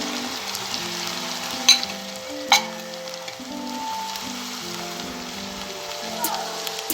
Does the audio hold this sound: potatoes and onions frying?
yes